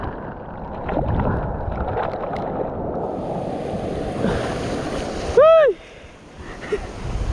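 Ocean waves break over a reef around a small fishing boat, a continuous rolling wash mixed with wind noise. A short rising electronic chirp cuts through near the end.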